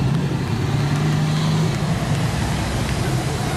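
Nostalgia sedan race car circling Maryborough Speedway on a lap of honour, a steady low engine drone heard from a distance amid open-air background noise.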